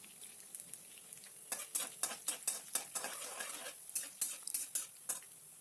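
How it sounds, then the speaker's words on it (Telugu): Coriander seeds and cumin roast in a couple of spoons of oil in a kadai, a faint steady sizzle broken by a run of quick rhythmic scrapes and ticks of a spoon stirring, close by with no speech. "ఇందులో ధనియాలు జీలకర్ర వేసి కొద్దిగా వేగనివ్వాలి"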